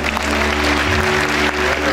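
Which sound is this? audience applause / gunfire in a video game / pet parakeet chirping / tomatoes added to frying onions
audience applause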